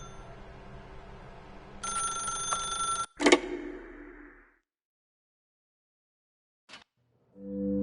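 A telephone rings in The Stanley Parable, a bright repeating bell burst followed by a sharp clatter as it cuts off, then quiet with a faint tick and a low tone at the end.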